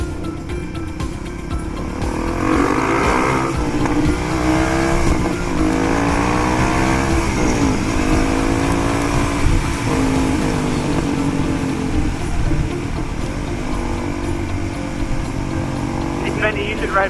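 Several motorcycles rev and drone steadily as riders cross a bridge, engine pitch rising and falling in sustained, moderately loud layers with a voice talking over them.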